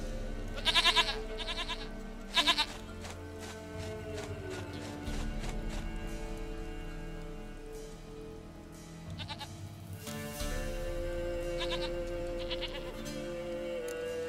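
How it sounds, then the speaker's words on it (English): Goat bleats from The Witcher 3 video game, two short loud calls near the start and a few more later, over steady background game music and ambience. "Goat of mine, dearest,"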